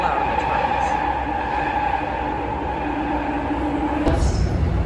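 Toronto TTC subway train rumbling loudly through a turn, a dense, steady roar with faint wheel squeal tones and a heavy low thump near the end, heard from inside the car with some talk beneath.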